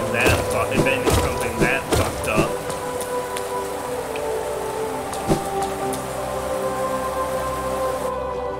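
Rain falls steadily in the City of Tears in the video game Hollow Knight, a continuous patter with a few louder thumps and splashes near the start.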